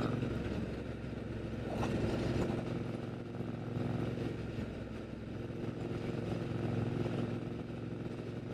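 A Triumph Bobber motorcycle being ridden, its engine giving a low, steady droning rumble with mild swells in throttle, heard alone without talk, moderately faint and continuous.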